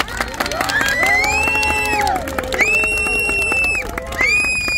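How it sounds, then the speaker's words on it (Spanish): An audience at a shouting contest in Jalisco cheers for the first contestant, with loud high whoops and yells over scattered clapping, close and lively throughout. "Un aplauso, por favor, para el primer participante."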